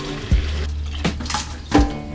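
Tap water runs into a container while mixing Blix colour film-processing solution, a steady pouring flow with a few louder splashing surges, close and without talk.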